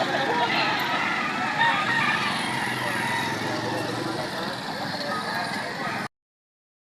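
A rooster up for sale crows amid a busy outdoor setting, its call fairly faint beneath steady background noise and people talking nearby.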